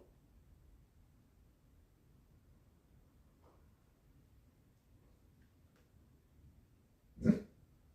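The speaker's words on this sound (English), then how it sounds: "There's a dog." A single short dog bark sounds near the end, loud against otherwise quiet indoor room tone.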